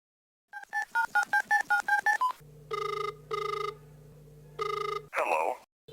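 A telephone being dialed: a quick run of about eight short keypad tones, then a dial or ringback tone sounds in three long bursts, ending with a brief burst of different sound. A voice comes in near the end.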